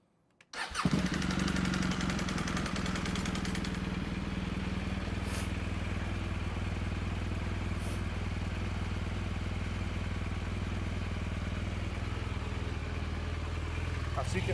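A BMW R1200 GS Adventure (2014–2018 liquid-cooled) fires up during an oil change and settles into a steady, close idle that runs on evenly for the rest of the clip.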